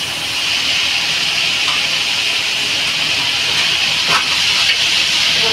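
A mixed vegetable curry sizzles in a hot pan as it is stirred, making a steady, close hiss with a few faint scrapes.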